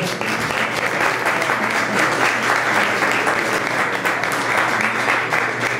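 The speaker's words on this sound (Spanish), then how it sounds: "para quien pido un aplauso de bienvenida, por favor" Welcoming applause from the audience at a panel discussion and recital on musicians in Colombia, a steady, sustained wash of clapping heard alone at moderate volume.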